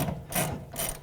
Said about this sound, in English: you can take your 19mm and see if you actually have reached the thread